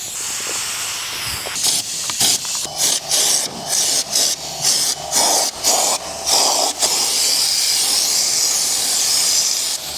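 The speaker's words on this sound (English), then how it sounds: "if you spray it on with minimal pressure, it'll go on a lot chunkier" A spray gun applies stone guard coating: bursts of pressurized spray hiss on and off in a rapid irregular series, then settle into a long continuous hiss.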